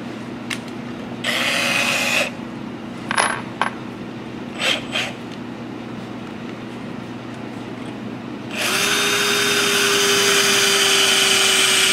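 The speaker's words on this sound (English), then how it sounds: "Now I'll drill and put my outside screws in." Short bursts of a power drill whir while driving screws into a white oak bowl blank, with a few light clinks between them, then a longer sustained drill run rising at the end.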